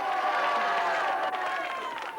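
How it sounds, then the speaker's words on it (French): A studio audience applauds and cheers steadily for a contestant on a French comedy game show, a dense, continuous wash of clapping with crowd noise throughout. "On l'applaudit bien fort."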